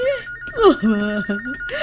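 A telephone rings with a steady high tone mixed with warbling electronic chirps, heard up close with voices talking over it.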